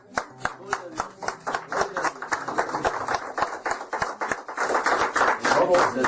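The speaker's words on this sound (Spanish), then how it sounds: "Un aplauso al Señor." Church congregation clapping in rhythm at a small evangelical cell gathering, steady fast hand claps that build louder over several seconds, with a few voices underneath.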